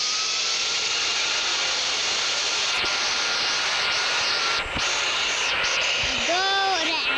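An Antonov cargo aeroplane at an airport gives off a steady, loud engine roar that fills the whole stretch, with a rising whine near the end, while someone speaks over it.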